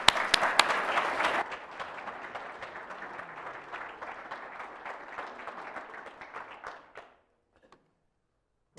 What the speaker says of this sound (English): So can we please give Jerry Franklin a round of applause?